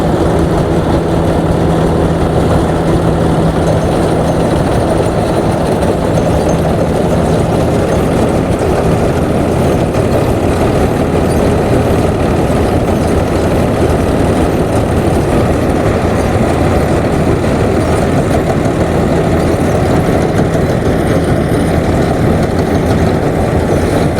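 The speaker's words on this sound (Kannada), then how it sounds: "ಸ್ಟಾರ್ಟ್ ಆದ ಮಿಷಿನ್ ಇಂಜಿನ್." A combine harvester's engine runs steadily while cutting a one-acre field of finger millet. The machine gives a continuous, loud, low mechanical drone with no talk.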